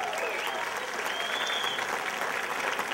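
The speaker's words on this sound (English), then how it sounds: "Round of applause, please." A studio audience at a 2004 Radio Mohawk broadcast gives a steady round of applause for a band, with dense clapping throughout and no talk over it.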